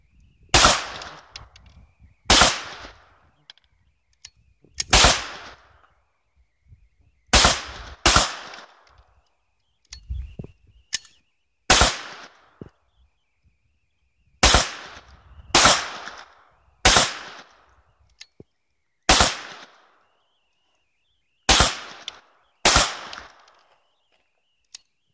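Shots from a Ruger firearm at an outdoor shooting range, about fifteen sharp loud reports spaced unevenly over the span, each ringing out briefly before quiet, with no talk.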